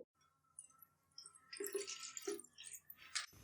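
Two cups of water poured for making jelly, a short burst of splashing liquid into a vessel after a quiet start, faint and close.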